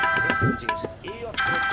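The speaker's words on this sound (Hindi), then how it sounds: "रोनिता का फोन।" A phone rings with a steady, tonal electronic ringtone at moderate volume, its repeating notes sounding over indoor voices as people talk.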